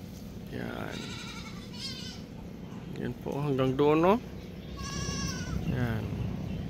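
Goats bleating while waiting at a gate for fodder, several distinct close bleats, one long wavering cry in the middle, with a person talking over them.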